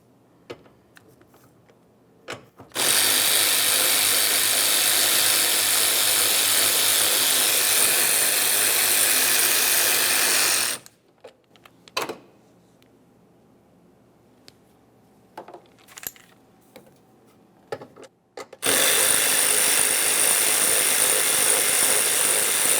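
A power tool removes two 8mm bolts from the air intake area of a 2009-2019 Ford Flex. It runs in two long, loud, continuous whirring bursts, separated by a quieter stretch of small clicks and handling noises.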